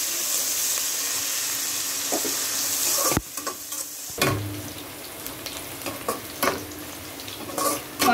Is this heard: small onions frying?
yes